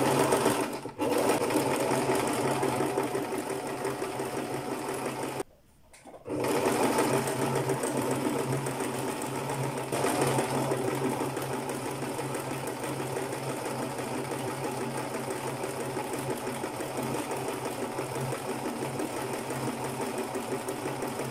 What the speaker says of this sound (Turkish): Daha sonra desenimi dikeceğim.